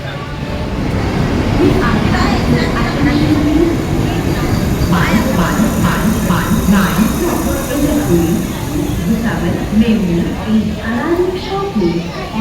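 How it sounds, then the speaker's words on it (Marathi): A Kashi-bound passenger train out of Jalgaon rolls along with a steady, loud broadband rumble throughout, while people talk over the noise. "मी काशी ट्रेन पकडली आहे चार सत्तावीसला जळगाववरून"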